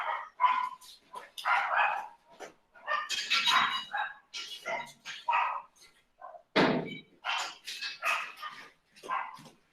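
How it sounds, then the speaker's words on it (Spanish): Several dogs barking outside a window, a dense chorus of repeated barks and yips in irregular bursts throughout, moderately loud and somewhat distant, with a couple of thumping knocks mixed in. "Cuando les da por hacer concierto de perros"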